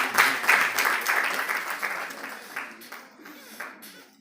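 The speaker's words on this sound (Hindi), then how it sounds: "भरपूर तालियों से स्वागत करें आप लोग।" An audience at a district-level youth parliament event applauds an award recipient, with dense clapping that swells at the start and gradually thins and fades over about four seconds.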